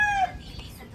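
A large chicken gives one brief, close call that fades quickly into a faint rustling background.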